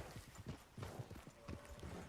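Horse hooves clip-clop at a steady walking pace in Red Dead Redemption 2, a run of close, distinct hoof thuds with light background ambience and no speech.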